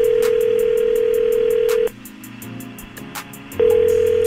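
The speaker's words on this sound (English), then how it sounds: "We're going to call Tara and hopefully get her on the phone" A telephone call on a radio show rings out: a steady loud tone sounds, breaks off briefly for quieter line noise and clicks, then resumes, with no one talking.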